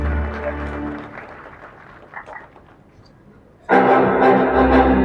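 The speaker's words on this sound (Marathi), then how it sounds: "टाळ्या वाजत राहू द्या" Audience applause at a Mumbai-Konkan award ceremony bursts in loud and sustained near the end, following quieter hall sound and faint talk over a PA.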